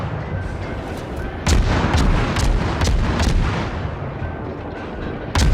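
Naval guns fire in the warship game World of Warships, a series of heavy booming shots ringing out loud and close over a constant rumbling battle background, with no speech.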